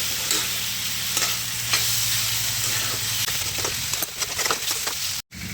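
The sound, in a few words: stir-frying vegetables with jaggery until it dissolves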